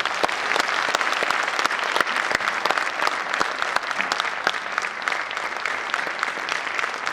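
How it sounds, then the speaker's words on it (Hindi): Steady, loud applause from a crowd at a state BJP working committee meeting, dense clapping sustained evenly throughout without any talk. "नड्डा जी के स्वागत में जोरदार तालियां होनी चाहिए।"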